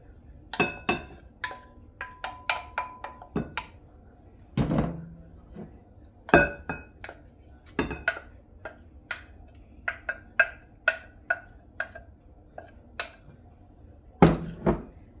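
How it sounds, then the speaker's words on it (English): A spoon or spatula folding wet ingredients and grated apple into dry batter for cinnamon apple donut holes in a bowl, with irregular soft thunks and clinks against the bowl, close and fairly quiet. "now we're going to fold the wet ingredients and the apple into the dry"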